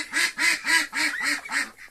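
Three-year-old farmyard duck quacks in a steady run of about seven evenly spaced, close and clear calls, alone without talk.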